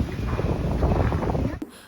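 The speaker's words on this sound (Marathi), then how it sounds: "मध्येच असा जोराचा वारा सुटला ना" A strong gust of wind buffets the microphone during a morning walk around a housing society, a steady rumbling roar that holds for over a second and a half before cutting off abruptly, leaving a quieter background.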